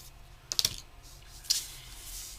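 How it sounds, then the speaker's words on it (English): Scissors cutting through a piece of scrap paper during a craft session, two short crisp snips about a second apart, close and fairly loud over a low background hum. "I got a scissor here. And I'm just going to cut that off."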